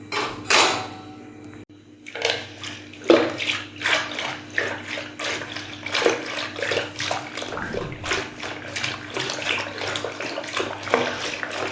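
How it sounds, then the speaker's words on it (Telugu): Cream with cool water is churned in a bowl to make butter, giving a continuous sloshing, splashing rhythm of liquid being whisked, close and steady after a short pause near the start. "ఇలా 10-15 నిమిషాలు బాగా చిలుక్కున్న తర్వాత ఇలా వెన్న రెడీ అవుతుందండి"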